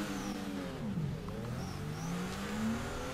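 A car engine revs in the drifting game Torque Drift, rising and falling in pitch as the throttle is worked, with a steady close engine drone and no talk.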